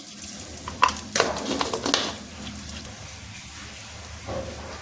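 Mustard seeds crackle and sizzle in hot oil, with scattered small pops over a steady frying hiss, close and moderately loud.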